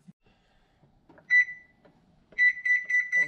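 An oven timer is set to 15 minutes at 375 degrees for crappie fish tacos. A single clear beep sounds, then after a pause comes a quick run of five or six short, close electronic beeps with faint handling noise between them.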